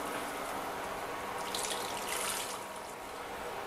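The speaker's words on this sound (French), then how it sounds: "Je mets les haricots et je mets de l'eau." Water pours steadily into a cooking pot holding browned beef shank and lingo beans, a continuous close splashing rush of about four seconds with no talking.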